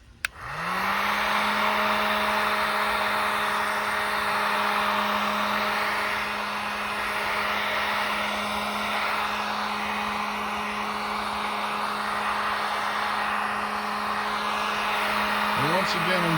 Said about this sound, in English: let's continue to heat it then with the heat gun